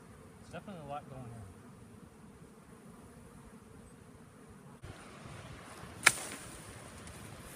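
A swarm of honeybees being knocked into a box gives a constant low, dense buzzing hum close by, with a rustling burst partway through and one sharp hit near the end; no talking.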